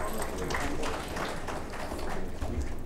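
An audience at a business chamber awards event gives a soft, steady round of applause at a moderate distance, continuing evenly for about three seconds.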